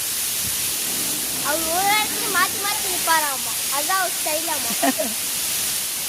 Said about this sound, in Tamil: ஃபுல்லா மழை பெய்யுது.